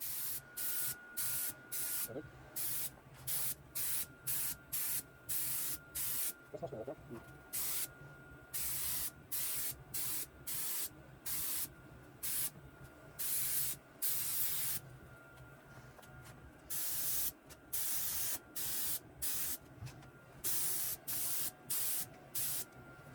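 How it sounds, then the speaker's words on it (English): Spray paint from a can applied in many short, light bursts, each a loud close hiss with brief gaps, repeating steadily throughout; a voice speaks faintly in between. "Here you can see me starting to put down a very small amount of paint."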